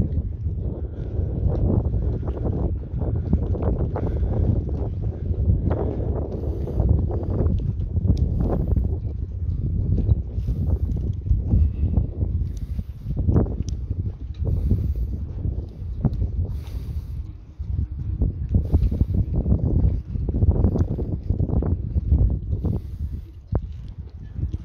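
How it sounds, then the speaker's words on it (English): Strong wind aboard a Bali 4.1 catamaran buffets the microphone with continuous low roaring gusts, loud and close throughout. "it's very windy"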